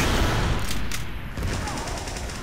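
Dense gunfire in the Team Fortress 2 match on the 2fort map, a continuous rattling fusillade of shots, loud and close, with a brief lull midway before the firing resumes.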